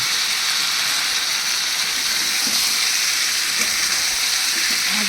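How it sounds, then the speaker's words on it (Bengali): Coconut paste hitting hot oil in a pan for a vegetarian potato and pointed gourd curry, giving a steady loud sizzle and hiss with faint stirring scrapes underneath, continuous throughout. "এবার আমি এর মধ্যে দিয়ে দিচ্ছি নারকেল বাটাটা"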